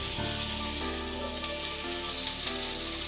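Boiled jackfruit pieces sizzling in hot oil in a pan, a steady crackling fry with soft popping, continuous and close, no talking.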